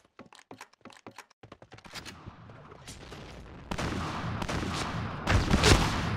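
Point-blank shotgun fire in the Crackdown video game, a quick series of sharp clicks and thuds building into heavy, dense blasts that swell louder toward the end.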